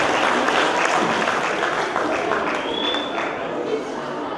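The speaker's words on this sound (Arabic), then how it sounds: "يلا تصفيق عليها ألف مبروك" A school awards ceremony crowd claps for a prize winner, a thick continuous wash of applause that stays fairly loud throughout, with faint crowd murmur mixed in.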